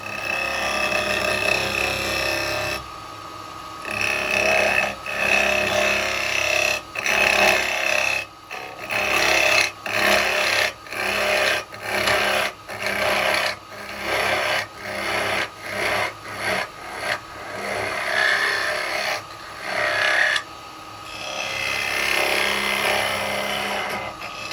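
A 1/2 inch spindle gouge cuts a wooden bowl turning on a lathe, giving a rhythmic series of rasping, scraping passes with short pauses between strokes, loud and close.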